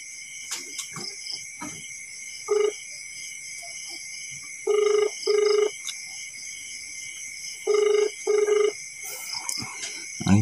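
An outgoing phone call rings unanswered, its electronic ringback sounding in repeated pairs of short tones over a steady high-pitched background hum, with faint clicks between.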